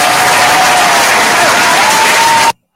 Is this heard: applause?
yes